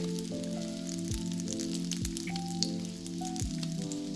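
Five eggs with a little salt fry in melted butter, giving a steady, even sizzle beneath a sustained tonal hum with a few faint ticks.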